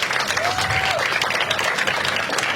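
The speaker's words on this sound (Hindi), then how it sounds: "और एक बार सब लोग अपने आप के लिए ताली बजा दो।" An audience applauds at the close of a live show, with steady, dense clapping throughout and a voice briefly rising over it.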